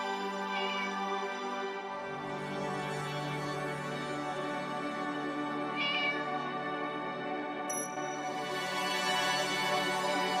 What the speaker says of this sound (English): Get a load of this cat.